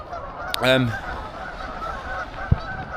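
A duck's goose-like honking call rings out once across a fishing lake, fairly close, followed by a quiet stretch with a single soft knock.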